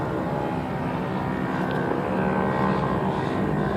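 A dune buggy with a turbocharged Hayabusa engine drones loudly and steadily at close range on the sand dunes, the engine note holding fairly even throughout.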